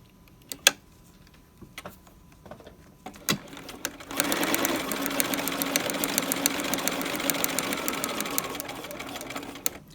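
A sewing machine stitches piping onto a V neck, a steady fast mechanical whirring that starts after a few scattered clicks and runs on alone at even loudness.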